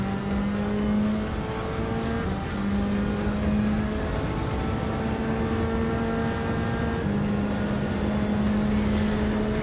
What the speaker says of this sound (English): Daniel Solis on the Alfa Romeo 4C Group 4.